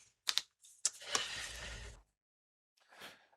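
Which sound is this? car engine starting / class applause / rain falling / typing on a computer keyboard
typing on a computer keyboard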